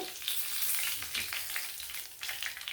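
Fish frying in hot oil for a Tamil-style meen varuval, a steady, close crackling sizzle with bright popping spatters throughout and no voices.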